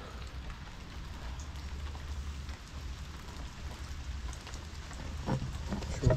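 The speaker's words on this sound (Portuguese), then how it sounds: "Tá chovendo demais." Heavy rain pours in a steady, dense hiss that stays even throughout, with a low rumble underneath and no voices.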